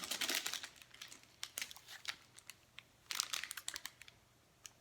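EVA foam sheets in plastic packaging are handled up close, giving bursts of crinkling and rustling plastic in irregular clusters with short pauses between, fairly quiet with no talk.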